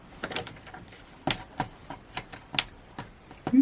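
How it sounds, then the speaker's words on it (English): A piece of card is trimmed to size on a paper trimmer for Christmas cardmaking, heard as a series of crisp close clicks and taps at irregular intervals, fairly loud, with no talk. "Now this piece here, what I'm going to do is cut that to 5 3/4 by 5"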